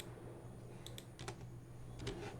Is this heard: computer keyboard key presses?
yes